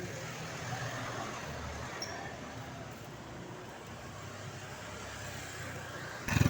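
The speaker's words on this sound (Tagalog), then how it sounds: "Dami pong sasakyan na dumadaan." Many vehicles pass along a roadside in a steady wash of traffic noise, a continuous low rumble of cars and larger trucks at moderate distance, with a brief louder thump at the end.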